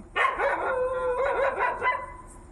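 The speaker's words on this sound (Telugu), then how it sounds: "ఈ నైట్ పూట కుక్కలు ఎలా మురుగుతున్నాయి" A dog barks and howls at night in a residential colony, a short burst of several drawn-out, yelping calls, fairly close and loud against a quiet background.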